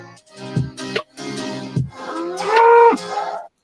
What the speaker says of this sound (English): now it makes that cow effect.